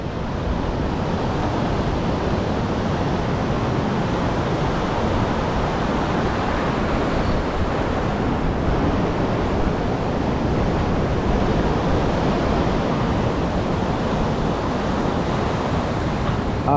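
Rough sea surf breaks continuously during cast net fishing for mullet, a loud, steady wash of crashing waves with wind buffeting the microphone and no pauses.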